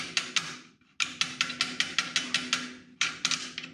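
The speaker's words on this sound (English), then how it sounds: "You just hold that pin with your hands and then smack that E-clip with a screwdriver" A screwdriver repeatedly smacks an E-clip onto a pin of a DeWALT DW735X planer, producing bright metallic taps in quick bursts of four to seven with short pauses, close and ringing, with no one speaking.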